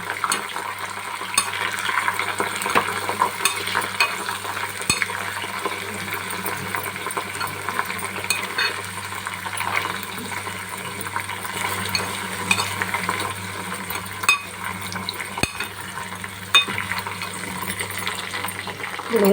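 Leaves fry in oil for homemade hair oil with a dense, constant sizzle and bubbling, along with a low steady hum and occasional clicks of a utensil against the pot.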